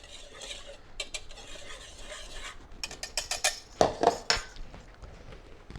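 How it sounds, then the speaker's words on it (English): Utensils scrape and clink against a bowl while almond flour dry ingredients are mixed, with irregular taps and a few louder knocks toward the end, close and alone. "I'll just mix all of this together. Break up any lumps of the almond flour."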